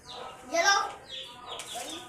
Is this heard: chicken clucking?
yes